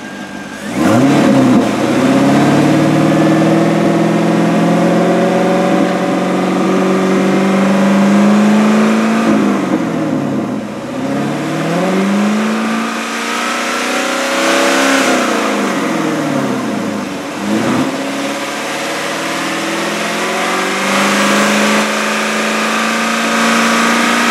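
A 1999 Chevrolet Corvette C5 V8 revs repeatedly through a throaty custom exhaust, rising to about 3,500 RPM and falling in several strong pulls over a steady idle, close and loud.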